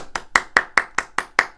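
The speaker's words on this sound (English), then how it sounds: "what I can do is have Tom Hanks applaud you" Tom Hanks clapping, eight crisp, evenly spaced claps in a quick steady rhythm, close and clear with nothing else behind them.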